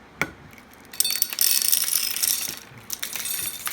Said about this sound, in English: Take a half a cup of those, put them in the funnel, helps it go in the jar better.